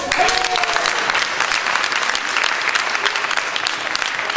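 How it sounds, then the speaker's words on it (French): An audience at a theatre sketch performance bursts into loud, continuous applause, with dense clapping filling the whole stretch. A few voices are faintly audible underneath. "on l'applaudit"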